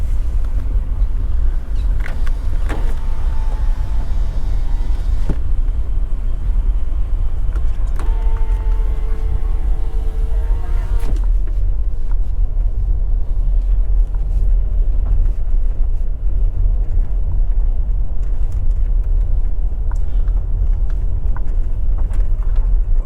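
A car driving through the New Building community in St. Elizabeth, Jamaica, heard from inside as a steady loud engine and road rumble with wind noise, a few brief whines and clicks along the way.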